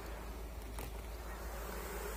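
Bees humming steadily around a bee trap in an apiary, a continuous close buzz with a low hum underneath and no talk.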